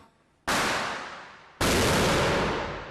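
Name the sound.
sting ball grenade exploding, scattering rubber balls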